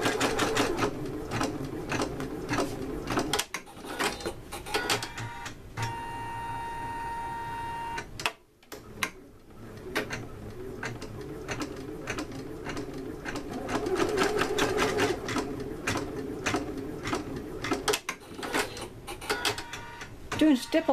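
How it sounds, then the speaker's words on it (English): An embroidery machine stitches stipple quilting with a fast, steady mechanical whir and rapid needle clatter, close and continuous, with a brief pause partway through and a voice speaking over it. "Doing stipple quilting on the embroidery machine is so much faster than doing it by hand."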